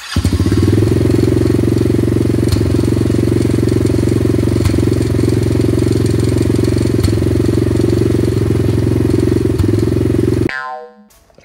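A motorcycle engine starts after the key is turned and the choke is pulled up, then runs loud and steady at close range for about ten seconds before cutting off abruptly.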